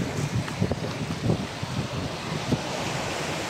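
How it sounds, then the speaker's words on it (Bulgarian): Wind gusts of about 21 km/h buffet the microphone over a steady wash of surf on an east beach at Pomorie, Bulgaria, with soft thumps of rumble coming and going. "Вятъра в момента е 21 км в час."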